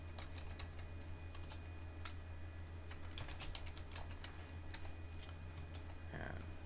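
A password is typed on a computer keyboard in a quiet room, a run of light, irregular key clicks over a faint steady hum.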